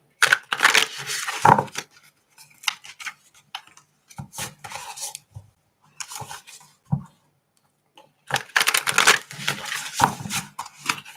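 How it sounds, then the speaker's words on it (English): Tarot cards being shuffled close by during a card reading: bursts of papery riffling and crisp scraping separated by near-silent pauses, loudest at the start and again near the end, with no talk over it. "There's a bit of shuffle."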